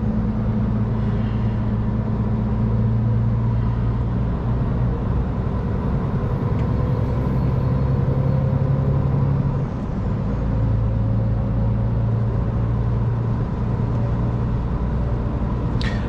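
Steady, loud low-pitched drone of a truck cruising on the A100 Berlin city autobahn, heard from inside the cab, with continuous road and engine rumble and no talk.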